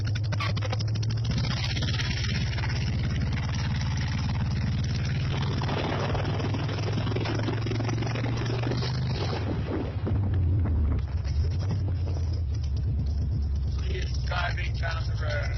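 An old car engine with worn ignition points drones in a low, steady rumble, with wind buffeting the microphone and a voice speaking over it.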